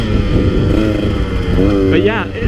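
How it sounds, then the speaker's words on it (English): A two-stroke dirt bike engine, either a KTM 150 XC-W or a Yamaha YZ250X, drones steadily while being ridden, then rises in pitch with a short rev. A rider's voice is heard over it. "just riding the clutch, keeping those RPMs high, and this thing never flinched, never stalled."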